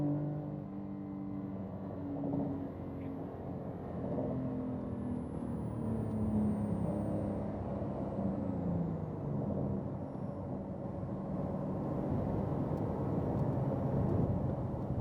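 A car on a race track holds a steady, continuous engine roar that swells gently toward full throttle, heard from inside at moderate loudness.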